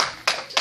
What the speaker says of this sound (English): Give the hand clap for that.